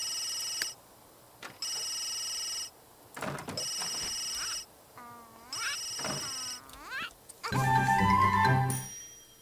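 A telephone in The Sims 3 video game rings in repeated bright electronic bursts separated by short gaps, interleaved with game sounds and meowing cat noises, ending in a louder busy mix.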